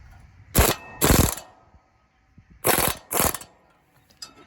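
A hand ratchet tightening bolts on a field cultivator gives two pairs of short, sharp clicking bursts, close and crisp, with quiet pauses and faint metallic ticks between them.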